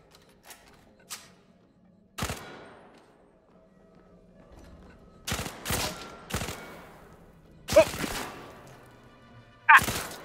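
Gunfire rings out in the virtual reality shooter Zero Caliber: scattered sharp shots and short bursts, some close and loud, spaced irregularly across quiet stretches of faint background hum.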